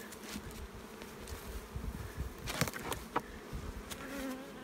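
Honeybees buzz steadily around an open backyard hive, a dense continuous hum with individual bees zipping close by now and then, heard alone without talk.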